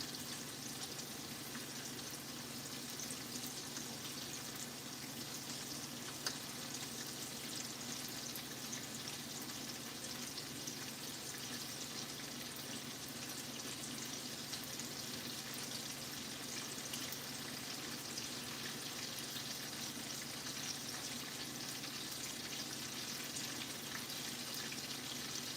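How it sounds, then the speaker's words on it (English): Steak frying in a pan while being basted in hot butter, a faint, steady sizzle and crackle running unbroken throughout with no talking. "Where it's starting to get cooked just by basting it in butter here."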